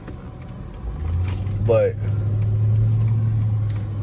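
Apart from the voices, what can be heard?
Chrysler 300C car engine driving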